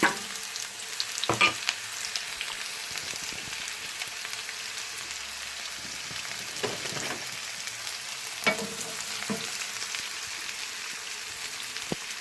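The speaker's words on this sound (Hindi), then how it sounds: "ऑयल हमारा गर्म हो चुका है, तो अब मैं इसमें ऐड करती हूँ अनियन।" Onions frying in hot oil in a pan for Punjabi-style tori sabzi, a steady soft sizzle with occasional stirring scrapes, close and fairly quiet, with no talk.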